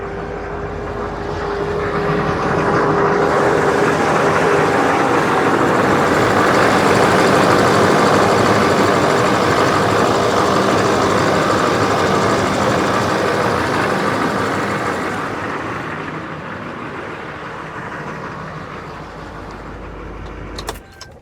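A 6.6 liter diesel truck engine idles steadily after being jump-started, a loud, continuous broadband rumble close by that holds for about fifteen seconds before easing slightly in level, with no talk over it.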